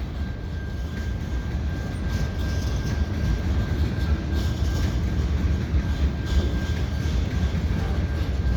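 A heavy CN freight train with diesel locomotives rumbles past steadily on a winter day at the Lachine Canal bridge, low and continuous, with a faint high whine riding over the noise.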